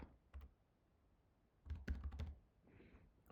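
Bursts of computer keyboard typing while entering a search for quotes in business software, a couple of quick isolated taps followed by a denser flurry of keystrokes, close and fairly quiet.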